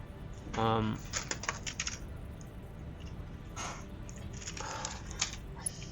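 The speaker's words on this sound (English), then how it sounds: "hitting the keyboard also works" Computer keyboard keys struck and tapped during a Satisfactory game session, a burst of close clattering clicks followed by scattered lighter taps, with a brief hum of voice near the start.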